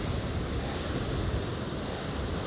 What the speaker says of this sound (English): Just see the waves crashing in.